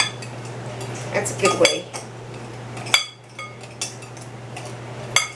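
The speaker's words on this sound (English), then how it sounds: "you can just take your butter knives and just cut your butter into it" Two butter knives scrape and clink against a bowl while cutting butter into quiche crust dough, giving scattered metallic clicks and sharp taps, with a voice speaking briefly.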